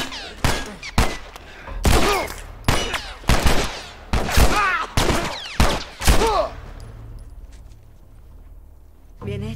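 Bursts of gunfire from The Last of Us Remastered ring out in a rapid, loud volley of sharp shots over several seconds, then fade into quieter ambience.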